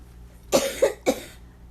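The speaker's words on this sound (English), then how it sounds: "I'm sorry about the coughing" Three sharp coughs in quick succession, close and fairly loud, against a quiet background.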